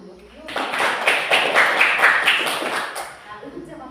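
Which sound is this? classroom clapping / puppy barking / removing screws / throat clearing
classroom clapping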